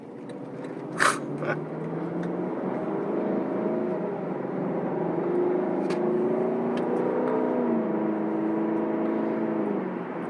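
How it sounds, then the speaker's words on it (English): A 2020 Lexus LC500 V8 exhaust hums low and steady while cruising on a night drive near Driftwood, Texas, with slight rises and falls in pitch and a couple of faint clicks. "the exhaust sounds great even when you're just kind of cruising along"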